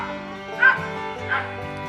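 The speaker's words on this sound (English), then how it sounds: "loves to bark at the squirrels" A dog in a backyard garden beside a fence, said to bark at squirrels, gives two short yipping barks with whimpering tones in between, fairly close and alone.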